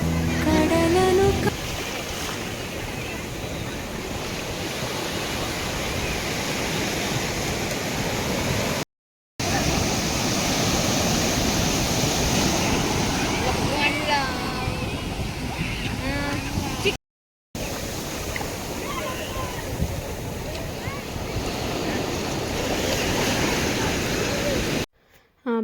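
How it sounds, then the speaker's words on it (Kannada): Sea waves at Malpe beach give a continuous broad rushing wash at sunset, loud and steady with a few brief breaks, with no talk heard. "ಬೀಚ್ ಹತ್ರ ಅಲೆಗಳ ಸೌಂಡಿಗೆ ಸನ್ಸೆಟ್ ನೋಡಿಕೊಂಡು ನಿಂತ್ಕೊಳ್ಳೋದ್ರಲ್ಲಿರೋ ಮಜಾನೇ ಬೇರೆ"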